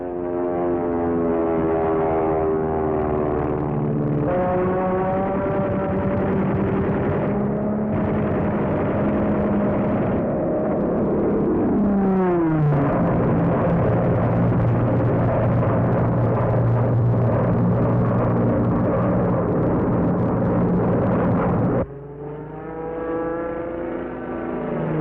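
Piston engines of P-47 Thunderbolt fighter planes roar and drone continuously during aerial combat over a 1943 war film soundtrack, with pitch swoops as aircraft dive and pass, loud and sustained, no voices.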